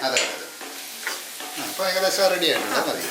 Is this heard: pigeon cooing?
no